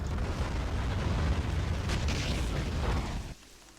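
Artillery fire in the Army Men of War strategy game: a dense, continuous rumble of booms and bursts, loud and low, fading out at the end.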